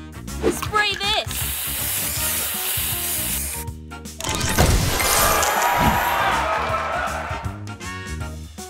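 A spray booster fires in a match-three style puzzle game, a loud hissing, crashing burst with sizzling sparkle that sustains for several seconds, with upbeat game music and an energetic announcer voice around it.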